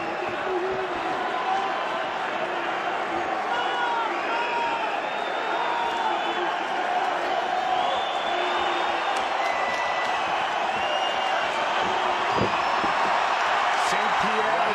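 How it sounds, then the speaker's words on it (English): Arena crowd at a fight event, with a steady, dense wall of voices chanting and cheering throughout, loud and continuous, with occasional sharp knocks and thuds. "Chanting right now."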